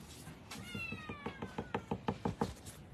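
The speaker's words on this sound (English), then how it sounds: "Knocking on the door." Knocking on a door inside a cattery at night, a run of about a dozen sharp, evenly spaced raps growing slightly louder, with cats meowing over the start and faint talk in the background.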